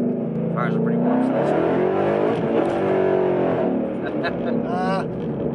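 A 2013 Mustang GT California Special accelerating hard in second gear, a loud, close engine roar climbing in pitch, with a voice heard over it.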